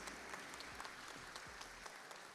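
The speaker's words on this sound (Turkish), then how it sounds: "Kendinizi büyük bir alkışlarsanız çok sevinirim." Faint, continuous applause from an audience at a stage event during a gaming festival, even and sustained throughout with a low hum beneath it.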